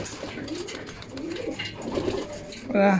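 Racing pigeons coo softly and steadily in a loft near feeding time, layered murmuring calls close by, with faint talk in the background and a brief brighter sound at the end.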